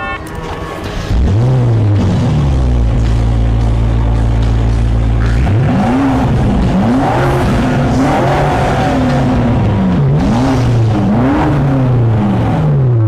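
A BMW M5 G90 fitted with a full Akrapovič exhaust holds a loud, steady high rev, then fires off a series of sharp rev blips that rise and fall close by. No one speaks.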